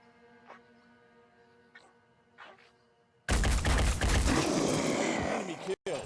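Gunfire from the turn-based strategy game Phoenix Point bursts out loud and sustained after a quiet stretch of faint clicks, a dense roaring volley that cuts off abruptly near the end.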